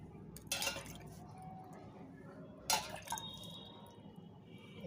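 Water is sprinkled over coriander seeds in a flower pot, giving two short splashing bursts a couple of seconds apart, close and fairly soft against a quiet background.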